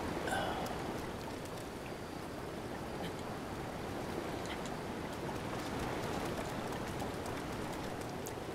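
Rain falls in The Legend of Zelda: Breath of the Wild, a steady, even wash of game rainfall with faint scattered drops, no voices over it.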